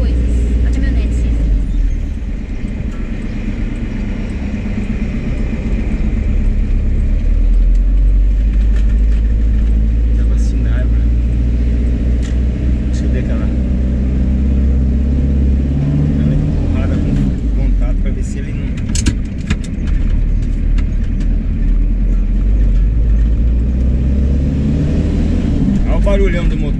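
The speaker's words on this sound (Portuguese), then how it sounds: "Barulhão do motor, ó." A pickup truck's engine drones low and steady while driving, a continuous rumble with road noise, as people talk inside the cab over it.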